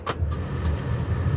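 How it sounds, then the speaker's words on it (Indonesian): A Hino 500 SG 280 Euro 4 tractor head truck engine turns over and settles into a steady low idle, with a couple of brief clicks at the start. "Kita coba hidupkan mesinnya ya."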